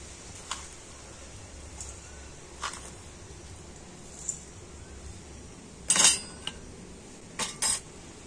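A spoon taps and clinks against a bowl while four spoonfuls of sugar go into flour for a biscuit-style tea snack, a few sparse, close metallic chinks over a quiet room, with a cluster near the end.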